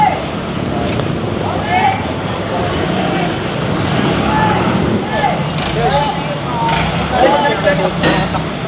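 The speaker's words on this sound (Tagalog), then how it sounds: "Dalawa na ang tow truck." A tow truck with air brakes working a roadside clearing operation by traffic enforcers, its engine rumbling steadily through dense street noise, with short brake-like hisses and chirps rising over the din while people talk nearby.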